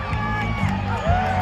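A crowd cheers and whoops at an outdoor event, with a steady wash of many voices and a few louder shouts rising out of it at close to middle distance.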